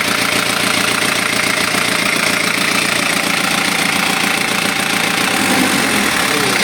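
Kia Pregio J2 3.0 diesel engine running steadily after repair, a close, even idle with a dense knocking clatter and no talk.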